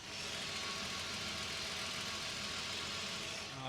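A 1993 Volkswagen Corrado VR6 engine idles close up, miked at the back of the engine, with a steady, even mechanical hum and faint ticking, running continuously without change.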